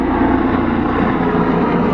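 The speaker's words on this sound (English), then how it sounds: "There's a helicopter doing helicopter things." A helicopter passes overhead near an off-road trail, its steady rotor and engine drone loud and continuous throughout, with no talking.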